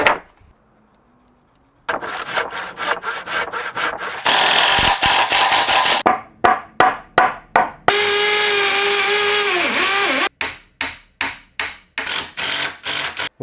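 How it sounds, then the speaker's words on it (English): Wood being hand-cut on trestles for a stud work garage frame, with bursts of rhythmic sawing strokes, a steady stretch of cutting, and clear back-and-forth rasping passes near and loud, no talking. "let's get cutting some wood, because we're going to build the frame for the stud work"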